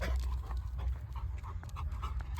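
A dog pants rapidly and steadily, close by, with quick rhythmic breaths continuing throughout and no voices present.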